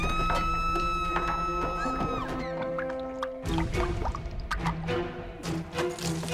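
Water spews and splatters from a character in the Doctor Who episode The Shakespeare Code, heard as scattered wet drips and plops mixed with sustained musical tones.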